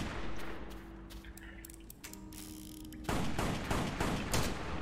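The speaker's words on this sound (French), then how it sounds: "je peux tirer avec mes deux balles en même temps" Rapid bursts of dual-wielded gunfire in the video game West of Dead, quieter at first under a low game hum, then a dense, louder volley of close shots in the final seconds.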